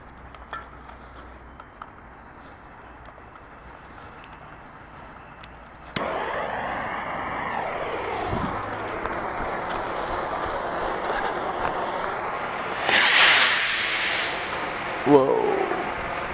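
A model rocket launches outdoors with a sudden rising whoosh, followed by a sharp, bright burst of hissing thrust and a later smaller pop, heard fairly close over faint background noise.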